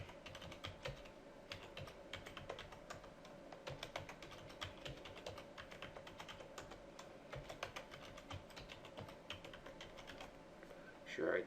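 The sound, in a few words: typing a long password on a computer keyboard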